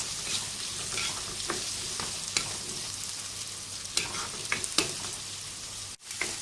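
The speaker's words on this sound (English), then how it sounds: "after the onions are nicely tossed in the pan" Big chunks of chopped onion, two onions' worth, sizzle steadily in a pan for a low-fat chicken Manchurian, with scattered scraping clicks from stirring and tossing and a brief dip near the end.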